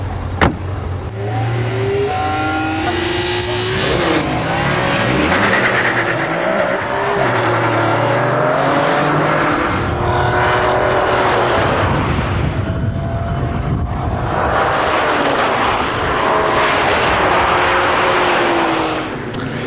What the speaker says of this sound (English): What you are about to see is the difference between a really, really fast car and a McLaren F1.